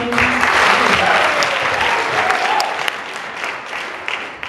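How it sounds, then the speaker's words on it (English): A loud crowd claps steadily at a Friends Show sandcastle-building event, the thick applause gradually tapering over a few seconds with a voice briefly heard at the start. "Round of applause."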